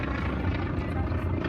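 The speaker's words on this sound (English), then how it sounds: "Now let's watch as the Wildcat starts its approach, I believe, on this pass." A WW2 Wildcat warbird makes its approach at the Miramar airshow, a steady low propeller-engine drone heard from a distance, continuous and fairly loud, with voices in the crowd mixed underneath.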